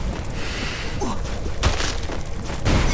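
A grenade goes off in a shooting video game with one sharp, heavy thud midway, set against a busy wash of game noise and ending in another low rumble.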